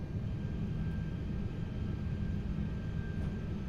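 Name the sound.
Airbus A380 engines running after start in flight simulator game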